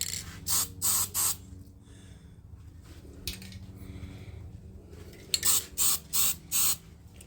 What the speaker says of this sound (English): So just giving it a light coat, first coat, tack coat I suppose you call it.